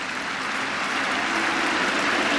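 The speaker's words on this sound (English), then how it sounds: "Everyone standing up and applauding and shouting his name" An Oval crowd at a Test cricket match applauding and cheering a century, a dense continuous roar of clapping and shouting from a large stadium audience.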